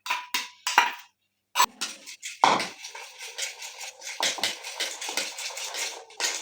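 Chicken marinade of salt and garlic-ginger paste mixed in a bowl: a spoon clinks and scrapes against the dish in quick, irregular strokes, close and fairly quiet, with no speech over it.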